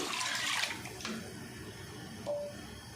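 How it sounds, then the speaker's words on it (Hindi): About 3 kg of water bubbling and churning steadily in a pot as it comes to a boil for rice, a continuous rushing, gurgling wash close by, without any speech. "पानी में बॉयल आ गया"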